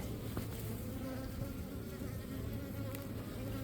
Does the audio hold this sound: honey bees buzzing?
yes